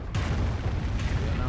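Artillery fire in the real-time strategy game Company of Heroes, a dense rumble of booms and blasts running through the whole stretch, mixed with other battle noise and a voice talking over it.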